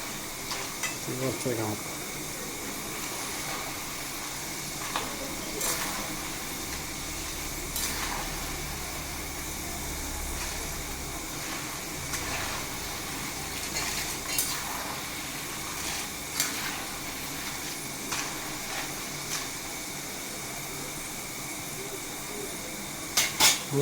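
Jackfruit chips frying in hot oil for Kerala-style crispy chips, with a continuous sizzling hiss broken by light scraping clicks of a stirring utensil; someone speaks briefly over it.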